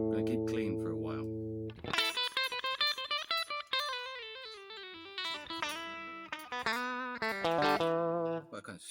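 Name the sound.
Line 6 Variax 500 guitar, clean tele-style bridge tone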